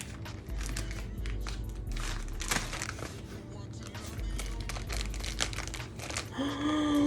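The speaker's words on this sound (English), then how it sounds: "when I cut the package open, I accidentally cut some of the cover." A plastic-wrapped book package being cut open, with close, busy crinkling and scraping of the plastic in uneven bursts throughout, ending in a brief higher tone.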